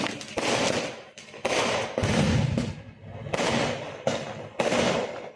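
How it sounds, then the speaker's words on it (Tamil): Firecrackers burst in loud, close volleys of rapid cracks in Alavantankulam, several bursts one after another with short gaps between them. "இப்போ வந்து நம்ம இதுவரை பார்த்த வெடினா இந்த வெடி போடுறது பாருங்க"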